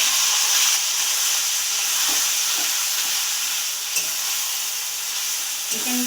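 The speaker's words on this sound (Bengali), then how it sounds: "এবার আমি ম্যারিনেট করা চিকেনটা দিয়ে দেব।" Marinated chicken hits hot oil seasoned with cumin and fries in a loud, dense sizzle that stays steady up close, with a few faint knocks of a stirring spoon underneath.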